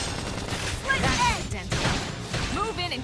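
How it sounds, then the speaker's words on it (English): Rapid bursts of gunfire crackle in the video game Xenoblade Chronicles X, layered with battle effects and game voices over about three seconds. "Topple them with gunfire"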